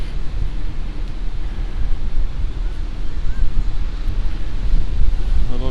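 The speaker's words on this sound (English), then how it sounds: "It's still a little windy up here" Steady wind buffets the microphone on the open 15th deck of the MSC Meraviglia cruise ship at sea, a continuous low roar with a faint wash of ocean beneath.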